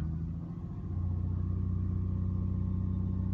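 A Land Rover engine running steadily with a deep, even rumble that lifts slightly and then settles into a constant idle drone, close and unbroken throughout.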